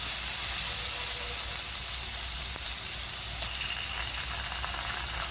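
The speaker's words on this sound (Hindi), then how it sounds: "अदरक लहसुन के पेस्ट को अच्छे से भूनेंगे कच्ची स्मेल जाने तक" Ginger garlic paste sizzles steadily while frying in a pan with green chillies, carrots and capsicum to follow, a continuous loud hiss with faint stirring scrapes and no voices.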